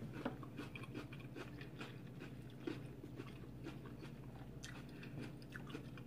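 Crunchy, wet chewing on veggie nachos made without tortillas, topped with raw uncooked peppers, jalapenos and shredded lettuce: close, steady bites and mastication with a few sharper crunches over a low background hum.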